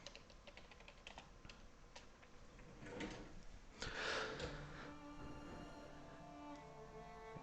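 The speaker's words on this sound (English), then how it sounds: "I'm just typing out the name." Quiet computer keyboard typing during a tabletop role-playing session: a steady run of soft, close key clicks with a slightly louder burst of keystrokes partway through, no talking.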